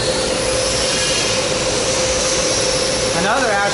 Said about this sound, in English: It's actually taking a measurement right now to find out where the seam is that it's going to be welding here